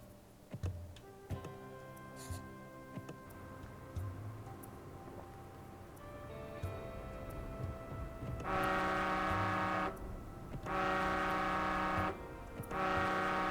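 A vehicle horn in the video game Dustland Delivery blares in three long, loud sustained blasts separated by short pauses, following quieter clicks and tones of game interface sounds.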